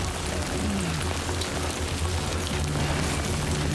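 Steady rain from Death Stranding 2 pours without pause, a dense even hiss of drops with low rumbling wind underneath, loud and close throughout.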